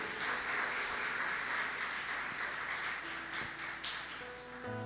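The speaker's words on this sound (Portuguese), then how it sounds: "Você pode aplaudir o Senhor?" A church congregation applauds during a sermon, a dense, even wash of clapping from many hands that holds steady throughout and thins slightly near the end, heard from a distance in a large room.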